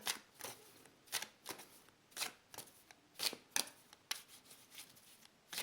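Tarot cards are shuffled close by in a run of quick, soft riffling bursts and slaps repeating roughly every half second, quiet and dry with no talking.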